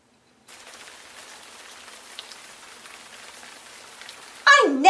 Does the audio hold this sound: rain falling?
yes